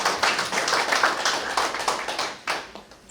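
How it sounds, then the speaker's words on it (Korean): Big round of applause from an audience at a construction-site fire prevention forum, dense steady clapping that dips briefly and then swells again, fairly close and filling the hall. "큰 박수 부탁드리겠습니다"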